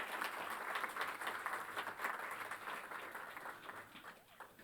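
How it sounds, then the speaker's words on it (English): Applause from the gathering at a book release event attended by the Vice President of India, a soft, even patter of many hands clapping, fairly distant and fading slightly toward the end. "may we have a big round of applause once again."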